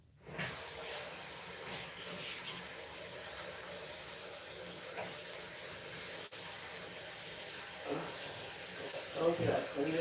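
Kitchen knives rinsed under a running tap, a steady broadband hiss of water spraying at close range with faint clinks near the end.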